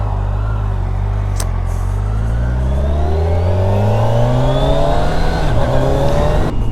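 Kawasaki Ninja 1000SX motorcycle from 2021 accelerating, a loud close engine note that climbs steadily in pitch through the gears with no talk over it.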